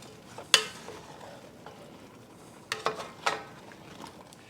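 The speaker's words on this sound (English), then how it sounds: "Give this a stir" Spoon stirring chili in a pot over a campfire after ground cumin and cayenne pepper go in, with a few sharp scraping clinks against the pot and a faint sizzle between them.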